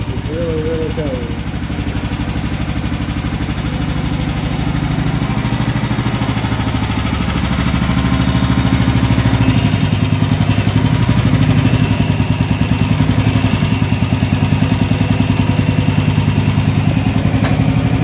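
A small engine idles steadily and loudly throughout, with a rough, clattering rhythm that grows slightly stronger partway through.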